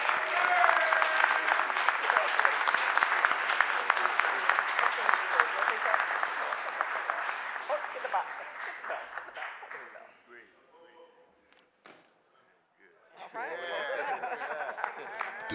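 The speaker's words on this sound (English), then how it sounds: "Let's give him a big round of applause" Audience applause in the Philadelphia City Council chamber, a dense sustained clapping that runs strongly for about eight seconds, thins out and nearly stops, then a fresh burst of clapping and voices picks up again.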